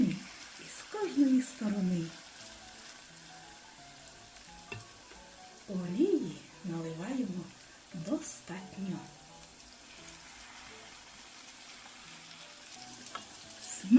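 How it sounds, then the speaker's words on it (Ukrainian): Soft sizzling of potato pancakes with sauerkraut frying in hot oil in a pan, with bursts of stirring and scraping noises and quiet gaps between them. "Формуємо дерунчики на розігрітій олії і смажимо по 2-3 хвилини."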